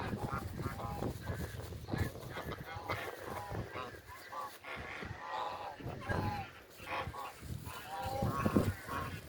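A flock of geese by a green river, honking in a busy overlapping chorus close by, with human voices mixed in underneath.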